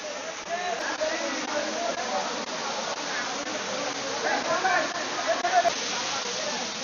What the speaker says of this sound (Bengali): চলে আসলাম ছাগলকান্দা ঝর্ণা, রূপসী ঝর্ণার ট্রেইলের, এটা হলো 3rd ঝর্ণা